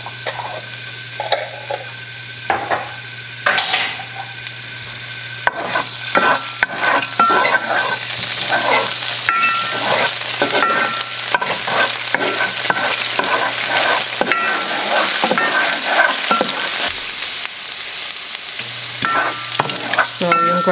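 Garlic frying in a pan gives a continuous loud sizzle, with repeated stirring scrapes and utensil taps, over a low steady hum.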